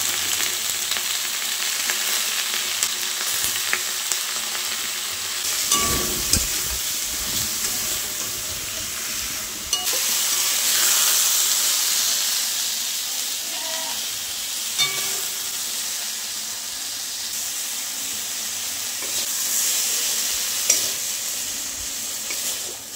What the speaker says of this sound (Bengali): বেগুনটাও হালকা করে ভেজে নেব